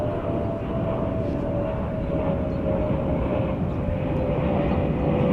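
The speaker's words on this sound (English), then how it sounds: "Planes as usual in my videos." Steady, loud broadband roar of a fixed-wing plane passing overhead, with a faint engine whine held throughout and no talking.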